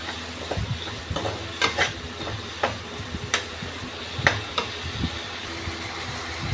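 Potatoes stir-fried in a pan with a little water for a Bengali potato and bori dish: repeated spatula scrapes and clatters over a steady, soft sizzle.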